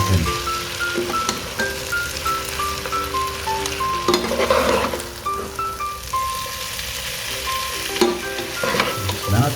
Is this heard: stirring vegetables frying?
yes